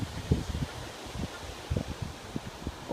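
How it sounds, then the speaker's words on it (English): Gusty wind blows outdoors during metal detecting in Cheshire, buffeting the microphone with soft rustling bursts and low thumps throughout the short stretch. "And I'm really sorry about the wind today."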